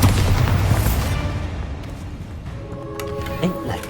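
A Bombarda blasting spell explodes in the Hogwarts Legacy video game, a loud booming burst at the start that decays into rumble, followed by scattered game effects and tonal sounds.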